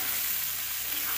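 Beaten eggs fry in hot oil for Indian egg bhurji, a short, even, close hiss of sizzling with no talk.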